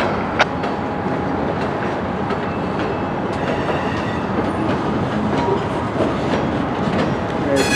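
Locomotives roll through Denver North rail yard with steady clanking and rumbling of wheels and cars, sharp metallic clicks and squeals over a continuous loud mechanical drone, with no talk.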